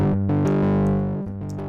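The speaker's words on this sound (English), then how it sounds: "This is Unify's distortion" Distorted tones from the built-in distortion effect of the Unify plug-in ring out as sustained, harmonically rich chords that shift pitch a few times, loud and close with no voices.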